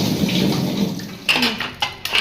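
Dishes being washed in a kitchen sink at home: a soft wet wash at first, then several sharp clinks and splashes of utensils being handled and rinsed nearby, with no talk.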